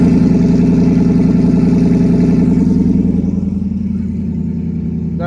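A turbocharged Ford Mustang GT S550 with an S475 T6 turbo idles while still cold at just above 1,000 RPM, giving a loud, steady, deep rhythmic burble that eases slightly toward the end.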